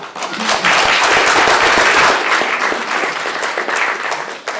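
Audience applause fills a room, dense clapping that swells quickly, stays loud and full for a few seconds, then thins slightly toward the end.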